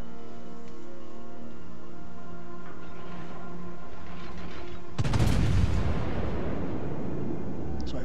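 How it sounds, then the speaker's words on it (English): A battleship salvo in World of Warships: steady engine and ambient hum, then a sudden loud booming blast of main guns firing, rumbling and decaying over the following seconds. "Fire my next salvo with the Leon."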